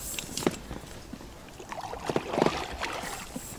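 Close splashes and drips of a catamaran kayak paddle dipping into water, a few irregular strokes with quiet trickling between them.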